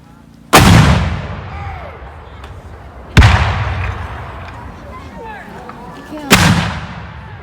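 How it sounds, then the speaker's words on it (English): Continental Army artillery guns at a Battle of Camden reenactment fire three loud, deep booms several seconds apart, each rolling away in a long echo, with voices faintly underneath. "These are Continental Army artillery guns. Fire!"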